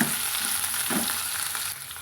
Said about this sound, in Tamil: நல்லா பிஞ்சு கத்திரிக்காயாக இது போல் நீளமாக வெட்டி வச்சுக்கிறேங்க, அதையும் நம்ம சேர்த்து வதக்கலாங்க